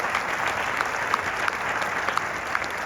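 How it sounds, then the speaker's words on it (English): An audience applauds the film editor at a movie Q&A screening, a full, steady round of clapping with light crowd murmur and no voices on top. "Give a round of applause."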